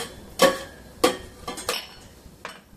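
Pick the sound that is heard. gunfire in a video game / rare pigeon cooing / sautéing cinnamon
sautéing cinnamon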